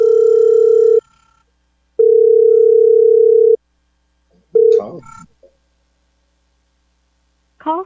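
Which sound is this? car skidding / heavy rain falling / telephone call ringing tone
telephone call ringing tone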